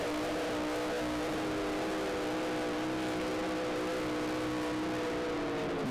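Hydroplane race boat powered by a roughly 350-cubic-inch Chevrolet race engine accelerating on the water, a loud sustained high-pitched engine whine held steady throughout.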